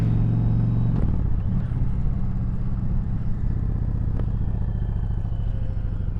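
Motorcycle leaving bike night, a loud, close, continuous low engine rumble that holds steady throughout, with faint clatter on top and no talking.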